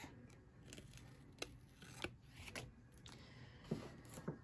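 Scissors snip through kraft card stock in a quiet crafting setting, several crisp cuts spaced irregularly, close and fairly soft with light handling rustle between them.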